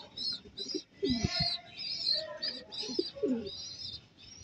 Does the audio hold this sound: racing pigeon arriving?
yes